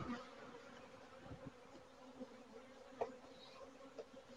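Honeybees buzzing around a healthy beehive during an inspection, a soft, steady droning hum with a few nearer passes standing out briefly, quiet and without talk.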